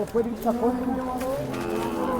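A Khillar cow at a busy Sangola cattle market gives a long, low, wavering moo, close and fairly loud, with faint crowd noise behind it.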